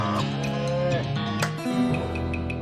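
A floating cow skull in a video game lets out a loud, drawn-out synthetic moo that warbles and shifts in pitch across the whole stretch, with a few bright chime-like clinks layered on top.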